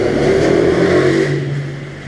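A motorcycle engine revs loudly and steadily at close range, holding a sustained mid-pitched drone for about two seconds before easing off slightly at the end.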